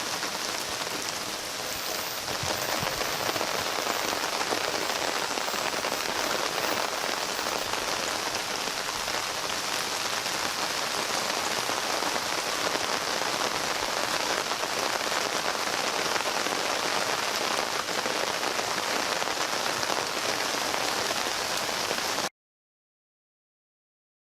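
Steady, dense rain pours down continuously at night in a garden, a heavy hiss of drops striking surfaces close by, with no voices, before cutting to silence.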